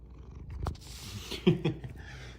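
A pet cat purrs while being petted, a soft, close, rhythmic rumble with a couple of louder breathy pulses in the middle. No speech.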